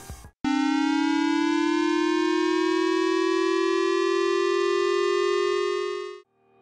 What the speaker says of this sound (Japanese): これが J アラートのサイレン音です。